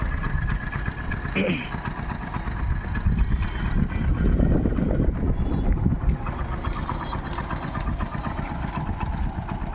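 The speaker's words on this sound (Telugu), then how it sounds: "ఇంజన్ కూడా రన్నింగ్లోనే ఉందండి ఇప్పుడు" A Hero HF Deluxe motorcycle engine idles with a continuous low chugging rumble, close by, as someone talks over it.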